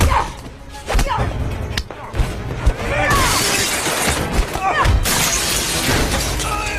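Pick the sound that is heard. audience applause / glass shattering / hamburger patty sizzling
glass shattering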